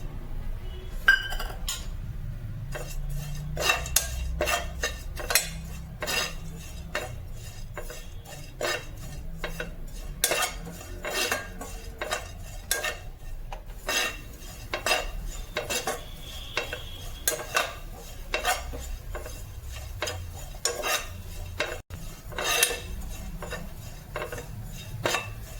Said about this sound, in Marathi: आता आपण खोबरं भाजून घेऊया।